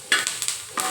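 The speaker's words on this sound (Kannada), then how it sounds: "ಹಾಕೊಂಡು ಸ್ವಲ್ಪ ಫ್ರೈ ಮಾಡ್ಕೋಬೇಕು ನೀಟಾಗಿ" Frying in a pan while making a capsicum dish, with steady sizzling broken by a few quick stirring scrapes and bursts, close and fairly loud, with no voices.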